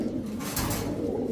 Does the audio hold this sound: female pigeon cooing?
yes